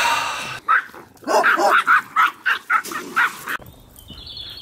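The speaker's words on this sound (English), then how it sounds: "Just taking the dogs for a walk." Several dogs bark in a quick run of roughly eight sharp, fairly close barks while out on a walk, set against outdoor background noise and birdsong, with a brief pause before and a quieter stretch after.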